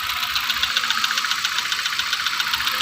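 A 2019 Hyundai Accent sedan engine idles close up, with a steady even ticking knock pulsing rapidly over a low hum, no talk.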